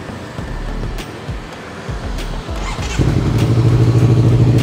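A Honda CBR250RR with an AK Movit exhaust pipe idles with a deep, loping rumble, then revs up sharply and holds a loud, raspy, close-up roar with no talking over it.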